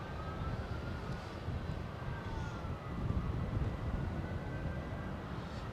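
A McDonnell Douglas MD-11 tri-jet aircraft, its engines giving a steady, fairly distant rumbling roar with a faint whining tone gliding across it, continuous and alone.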